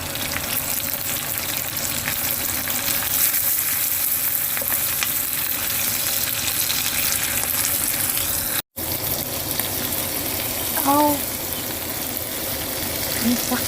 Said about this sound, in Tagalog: Tapos ngayon ilagay na natin yung eggplant. Then, i-fry lang natin siya.